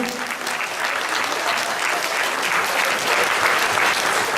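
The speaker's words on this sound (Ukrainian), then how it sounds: "Давайте оплесками привітаємо усіх учасників." Audience applause welcoming participants at a boxing tournament, a dense steady clapping from a large crowd that holds at full loudness throughout.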